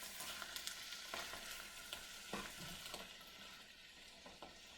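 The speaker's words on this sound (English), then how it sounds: "So you're just gonna kind of saute the spinach a little bit" Spinach sautéing in a pan, giving a soft, continuous sizzle broken by a few faint stirring scrapes, quiet and close with no voices.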